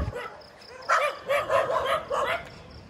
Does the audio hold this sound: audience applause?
no